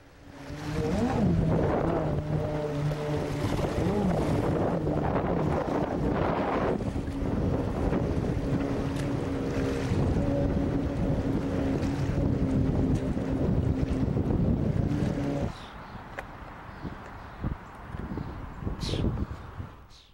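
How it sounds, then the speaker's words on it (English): A jet ski runs on the Detroit River, heard from a rocky riverbank with wind buffeting the microphone. Its steady engine drone holds loud for about fifteen seconds, then drops away into quieter wind and water noise. "One of these wave runners or jet skis, they go by several names"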